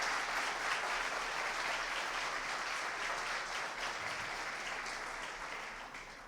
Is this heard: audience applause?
yes